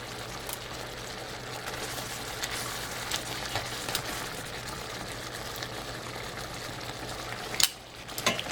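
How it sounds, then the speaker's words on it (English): Pork chops simmer gently in a mushroom cream sauce, giving a soft, steady bubbling and faint sizzle in the pan, with a brief clink of a utensil near the end. "I'm actually going to put pork chops back in and let them gently simmer in the cream sauce to finish cooking"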